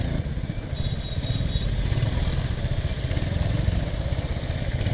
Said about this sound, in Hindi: बाइक बहुत अच्छी चल रही है